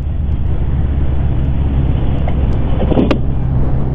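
A Honda motorcycle cruises along a dual carriageway, its engine and wind roar forming a loud, steady low drone heard from the rider's position, with a few faint higher sounds passing over it.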